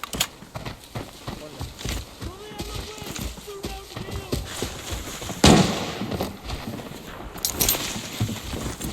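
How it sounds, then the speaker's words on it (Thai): Gunfire in the tactical shooter Arena Breakout: scattered sharp pops and cracks, one louder near shot standing out, over busy game ambience while people talk throughout. "นี่มันยิงกันอยู่"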